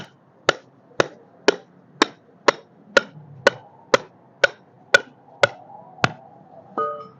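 Steady, evenly spaced hammer blows drive a stake, ringing out one after another, about a dozen sharp strikes at a regular pace, with no talking.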